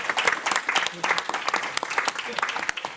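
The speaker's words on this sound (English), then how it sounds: "Let's give a round of applause for that" Audience applause at an evening public talk on brain science treatments, a dense burst of many hands clapping in a hall, lively and sustained for the full three seconds.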